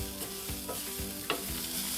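Grated coconut stirred and roasted in a pan for coconut rice, with a soft continuous sizzle and a few scraping strokes of the spoon, close up with no voices.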